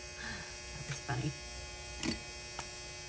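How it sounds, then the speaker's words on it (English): A clothes dryer's steady electrical buzzing hum drones continuously in the background, with brief faint rustles and a soft voice over it. "If you hear the buzzing, that's just my dryer going off."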